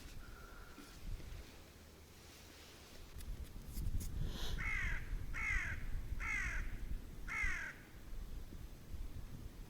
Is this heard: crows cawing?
yes